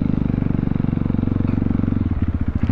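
Crossfire RMZ 250 motorcycle exhaust on a test ride in Nepal, a loud, close, steady pulsing engine note with rapid regular firing throbs that continue throughout.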